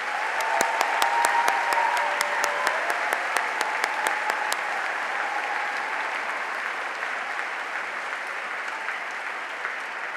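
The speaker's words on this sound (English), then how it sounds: "Let's give them a round of applause." Enthusiastic applause from a large convocation crowd welcoming the incoming class of 2026 at Springfield College, dense steady clapping with a few sharper claps early on, sustained throughout and gradually easing.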